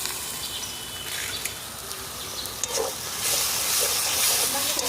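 Water poured onto hot, sticking spices in a pan for rohu curry bursts into a loud, broad hiss and sizzle, steady at first and swelling stronger toward the end, heard up close.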